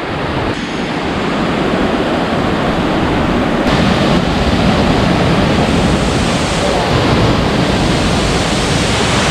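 Panara waterfall in Gowa, South Sulawesi, a loud, continuous roar of rushing water filling the whole clip, steady and broadband with no pauses, under an overcast sky threatening rain.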